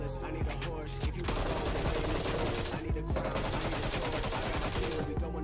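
Sustained automatic gunfire sprays in BGMI, a dense, loud rattle of rapid shots that runs almost the whole time with one brief break near the middle, with voices faintly underneath.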